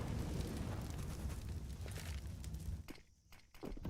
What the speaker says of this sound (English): Molotovs exchanged.